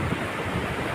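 Sea waves wash onto the wide shore at Methala beach in Gujarat, making a steady, continuous roar with wind buffeting the microphone.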